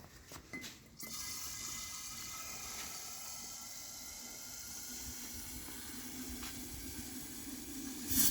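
Water is poured in to dilute about 150 ml of humus fertilizer, making a steady hissing, splashing flow that runs close by for several seconds after a brief knock at the start.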